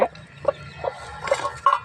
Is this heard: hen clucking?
yes